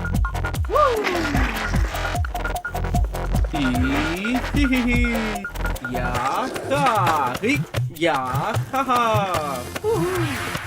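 A cartoon car drives off with a looping engine tone and repeated high, wavering tire squeals and skids, busy and continuous, with cartoon sound effects layered throughout.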